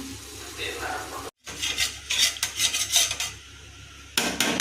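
Steady sizzling and scraping of a spoon stirring masala for mushroom biryani in a hot pan, with a brief pause and occasional clinks of metal.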